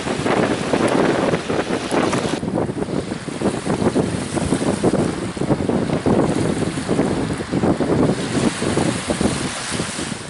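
A specially equipped drilling survey ship works at sea off Şekerkaya in the Çanakkale Strait, heard as a continuous roar of engine, wind and waves buffeting the microphone, loud and steady for ten seconds, with no voices.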